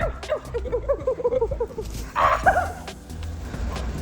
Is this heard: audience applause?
no